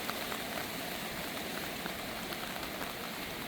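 Heavy rain from Hurricane Helene pours down in the Great Smoky Mountains as a dense, steady hiss of drops hitting surfaces, unbroken and fairly close, with no voices.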